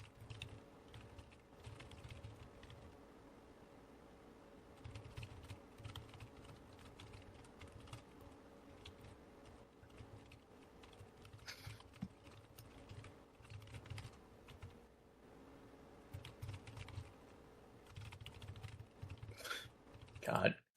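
Computer keyboard typing runs steadily throughout at a low level, mixed with background speech and stream noise.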